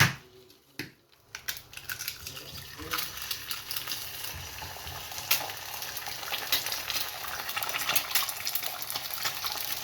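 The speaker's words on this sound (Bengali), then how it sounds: "আর তার সাথে এইটাতে আমি এই যে ডিম ভেজে নিব।" Eggs frying in a pan on a home stove, a steady crackling sizzle with scraping and tapping that builds after a brief quiet start and carries on close and fairly loud.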